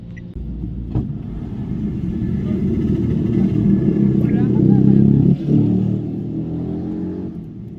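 A GoCar ride-hailing car in Lampung accelerates as it drives, a steady low engine rumble swelling toward the middle before easing, with voices talking over it.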